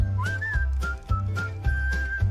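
A tuneful whistled melody carries through a song, clear sustained notes and short glides over a rhythmic musical backing with regular low beats.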